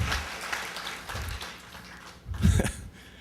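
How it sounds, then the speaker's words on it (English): Audience applause for Rob Hill at a surfing walk of fame ceremony, a soft, diffuse patter of clapping from a crowd that swells briefly louder near the end. "let's give him a round of applause"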